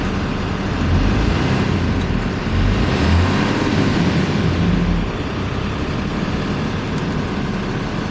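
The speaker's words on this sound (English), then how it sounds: "I was just revving the truck there." A 2016 Dodge 5500 bucket truck's engine revs in a steady, loud, close rumble that swells a little partway through and holds without talk.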